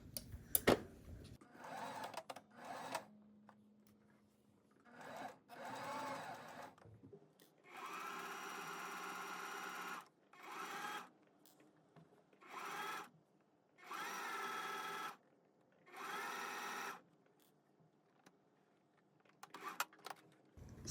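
A domestic sewing machine runs in repeated bursts of steady whirring, a few seconds each with short pauses between, stitching a quarter-inch seam on fabric tabi slippers; close and fairly quiet, with faint handling clicks at the start and end.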